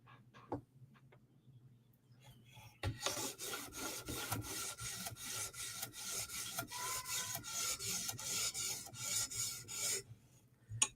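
A Spyderco knife blade scrapes in steady back-and-forth strokes across a sharpening stone, a close, continuous raspy grinding that begins after a few quiet seconds and runs evenly to the end.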